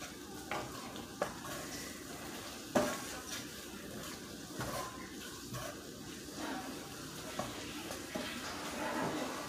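Spicy Korean noodles and rice cakes are stirred in a pan, with a soft steady sizzle beneath scattered scrapes and clinks of a utensil against the cookware, quiet and close.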